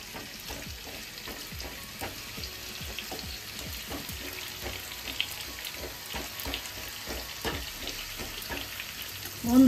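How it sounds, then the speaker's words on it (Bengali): Pumpkin fries over high heat in a pan with a steady, moderately quiet sizzle, broken by a rhythmic series of soft scraping and stirring taps throughout. "বন্ধুরা, কুমড়োটাও এরকম লাল করে ভেজে নিলাম, দেখতেই পাচ্ছেন।"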